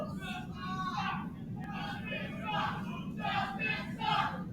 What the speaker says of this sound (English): And this crowd being awfully disrespectful.